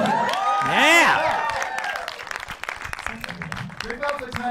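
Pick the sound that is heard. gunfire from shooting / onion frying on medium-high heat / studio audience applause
studio audience applause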